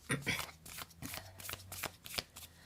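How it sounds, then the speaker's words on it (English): Tarot cards being shuffled and drawn, soft close riffling and flicking of the deck in quick irregular bursts, quiet and intimate. "Let's pull 4 cards: past, present, future, and the outcome."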